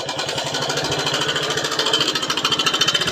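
A Honda XL 100 motorcycle engine runs steadily at close range, a fast, even, pulsing thrum with a rattly mechanical edge. The beat grows slightly stronger toward the end.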